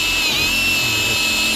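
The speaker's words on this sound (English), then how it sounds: "We're using the Milwaukee drill with a step bit." A Milwaukee drill fitted with a step bit bores a hole in metal for a food truck's gas line, giving a loud, close, steady high-pitched whine throughout the short burst.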